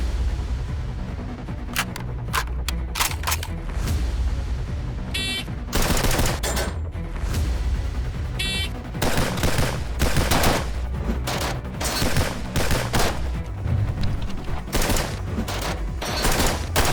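Rapid bursts and single shots from an Arsenal K-101 AK74 rifle and a Bravo Company BCM 14.5-inch AR15 rifle firing 5.56 mm rounds outdoors, loud repeated cracks in uneven clusters throughout, with no speech.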